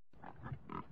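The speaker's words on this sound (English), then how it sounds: "Pig." A pig oinks in a short burst of three grunting snorts within a second, faint and alone, from a children's farm animal puzzle game.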